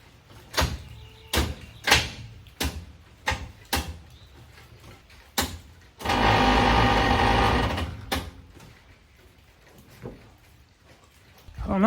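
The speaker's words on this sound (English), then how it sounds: "So let me crank the key one more time." On an abandoned Squarebody hot rod truck, the key is turned repeatedly, giving a run of sharp, evenly spaced clicks. A two-second burst of grinding cranking follows, then another click.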